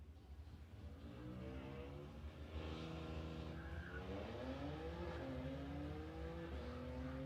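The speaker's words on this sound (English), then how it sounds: "BMW wasting no time to get down the quarter mile." BMW car accelerating down a quarter-mile drag strip, engine revving through rising gear sweeps, loud and sustained against a distant roar of the raceway.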